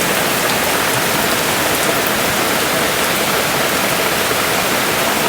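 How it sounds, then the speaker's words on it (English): Heavy rain pours steadily over a chicken homestead, a loud, dense, unbroken hiss with no voices. "Like when it rains like this for a long time"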